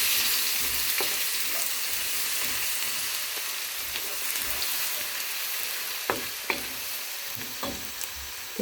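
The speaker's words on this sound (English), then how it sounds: "I'm going to saute the minced garlic" Minced garlic sautéing in a pan gives a steady bright sizzle with occasional clicks and taps as it is stirred, close and continuous, with no voices.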